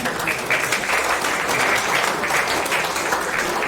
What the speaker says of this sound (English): And a round of applause for Brad as well, ladies and gentlemen.